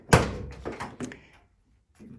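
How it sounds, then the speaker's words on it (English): Door of a 1977 Chevy Camaro slammed shut hard against a stiff seal, a single close, heavy thunk followed by a brief rattling rebound and a faint trailing knock. "let me slam this door as hard as I can, I guess, and see if I get it to latch all the way"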